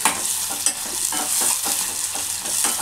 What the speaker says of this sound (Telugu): ఇది బ్రౌన్ కలర్ వచ్చేంత వరకు ఇట్లా మంచిగా వేయించుకోవాలి.